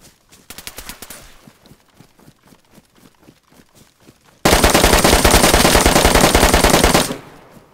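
DayZ gunfire rings out as a run of rapid single shots, then a loud, sustained automatic burst lasting several seconds before cutting off, with no talk over it.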